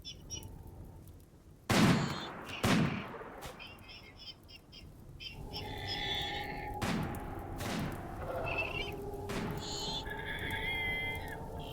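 A RimWorld battle plays out in distant, sparse gunfire, with a couple of sharp shots near the start and further scattered reports later over a steady ambient hum and faint chirping tones.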